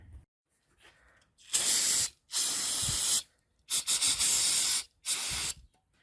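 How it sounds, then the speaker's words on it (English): Brake cleaner is sprayed onto a Pontiac 350 engine block in four loud, close hissing bursts, each about a second long, separated by short silences. "Let's get some brake clean."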